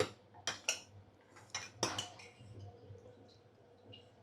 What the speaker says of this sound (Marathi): ते आपण टाकूया आता आणि थोडं ढवळून घेऊया